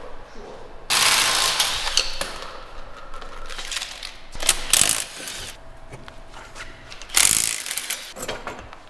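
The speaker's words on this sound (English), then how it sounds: "can you get a flathead and start popping the center caps out?" A flathead screwdriver pries metal center caps off small car wheels, giving repeated sharp clicks, scrapes and pops in bursts, close by and alone.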